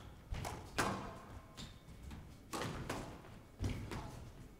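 During a squash match at the Swedish Open quarter-finals, the ball is struck several times in a rally, giving hollow thuds and smacks at an uneven pace, heard faintly against crowd and court noise.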